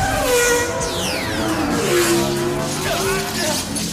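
A cartoon motorcycle under turbo power skids, with sweeping, sliding tire squeals and a revving whine that rise and fall over a few seconds, loud and close, mixed with background effects.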